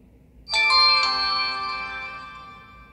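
An HTC U12+ phone plays its startup chime on first power-on: a single bright, bell-like ringing tone that starts abruptly and slowly fades, alone over near silence.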